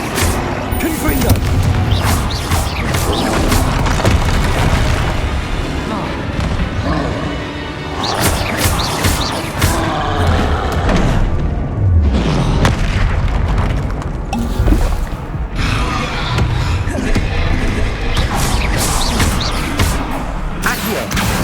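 Explosion spells blast again and again in the wizarding video game Hogwarts Legacy, with loud booms and crashing bursts layered over combat effects and a voice calling out spell names.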